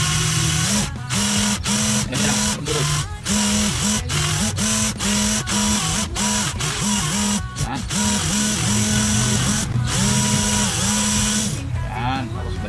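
Portable cordless drill spinning a wire brush against a rusty steel shaft, rapid rhythmic whirring and grinding broken by many short stops and restarts, loud and close.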